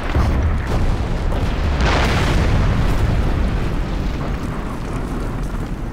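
Loud, continuous barrage of explosions and booming artillery fire from the video game Medal of Honor Airborne, a dense rumbling roar with overlapping blasts that never lets up.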